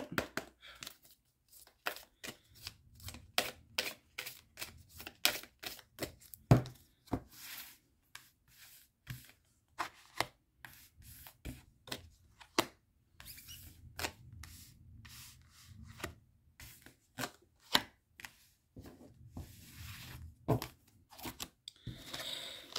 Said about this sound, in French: On mélange d'abord les deux paquets de cartes.